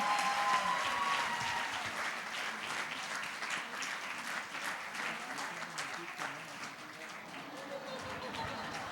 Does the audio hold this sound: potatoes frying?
no